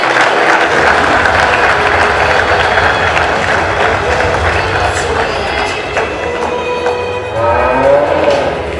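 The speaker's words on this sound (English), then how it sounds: "can I please ask everybody to give a great round of applause to the minister" Audience at a raw milk suppliers award ceremony applauding a minister, sustained dense clapping from a crowd that holds steady throughout with no break.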